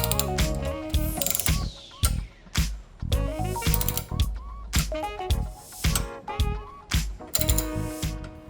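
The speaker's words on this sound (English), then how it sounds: "I used a long socket extension on a ratchet to loosen them first." A ratchet with a long socket extension works loose the side mirror bolts on a 2020 Toyota Corolla, giving repeated bursts of sharp, close clicking with short pauses between strokes.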